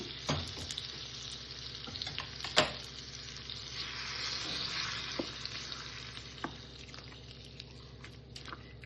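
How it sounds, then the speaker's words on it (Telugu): Mustard seeds and spices crackle and sizzle in hot oil for tempering, with sharp pops and spits early on and a steady frying hiss underneath; no talking. "పోపు వేసుకుని"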